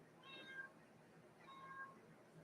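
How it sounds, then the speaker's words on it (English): A house cat meows twice, each call a drawn-out, fairly faint cry about a second apart, with soft room noise and no talking. "Shut up, cat."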